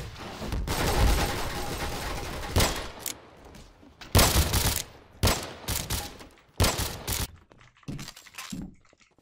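Gunfire in a Garry's Mod WW2 roleplay game, with several loud bursts and volleys of shots separated by short pauses.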